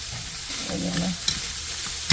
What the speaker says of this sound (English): normally around this time, I'll give it a little bit of stir so it can get all that sofrito in it